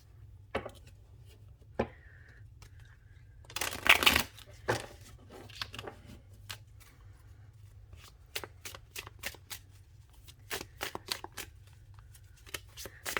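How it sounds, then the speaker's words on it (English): Crisp bursts of oracle cards being shuffled, riffles and taps coming in quick clusters, with a louder flurry early on, over a low steady hum. "Now we're going to go into a little bit of a shuffle here"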